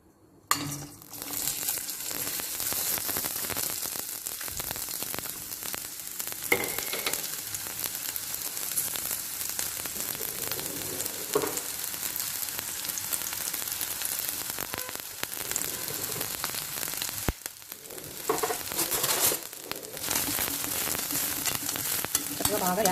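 Onions sizzle in hot oil for a mutton and cucumber curry, a dense, steady frying hiss that holds for over twenty seconds with occasional stirring scrapes and one brief dip, close and even.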